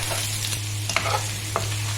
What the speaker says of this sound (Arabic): هنزل بمعلقه ثوم معايا بالشكل ده كده برضو، وهقلبها فيها